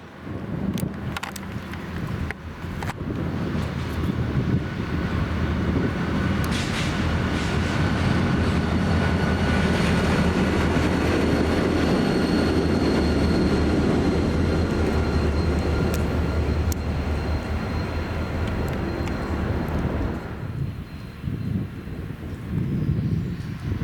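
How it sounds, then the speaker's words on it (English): A CSX local freight train led by a single GP40-2 diesel locomotive rumbles past for a long stretch, droning loudly with steady wheel clatter before fading toward the end. "We first see a CSX local heading back east to Newcastle, Pennsylvania with a solo GP40-2 in the lead."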